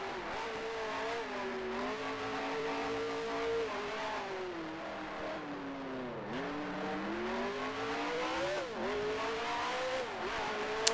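Race car in Grand Prix Legends, its engine droning steadily and close, the pitch sagging and climbing as it shifts down and accelerates over a hill, with no voices.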